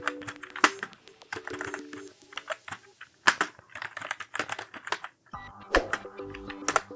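Commands typed on a computer keyboard to format a pen drive, quick clicking keystrokes in uneven bursts with short pauses, close and clear, with no voices.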